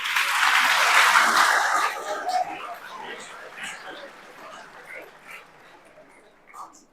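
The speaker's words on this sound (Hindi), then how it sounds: "ताली बजाएंगे एक बार।" Schoolchildren give a burst of group clapping that is loudest at the start and then thins into scattered claps and chatter, with an adult voice and children's voices over it.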